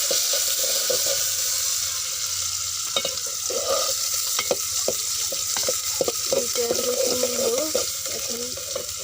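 Chopped onion and garlic paste fry in oil in a cooking pot, making a steady close sizzle with occasional stirring clicks and scrapes of a utensil, and no voice over it.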